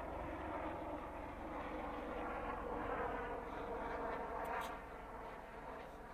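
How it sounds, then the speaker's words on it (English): A helicopter flies overhead during a walk near Diemen and Muiden, its engine a continuous low drone that holds steady at moderate loudness throughout. "Wow, that helicopter, ah no, that is another one."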